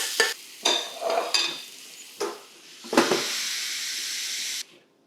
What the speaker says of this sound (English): We're just gonna go ahead and fill up our waffle maker and then put the lid down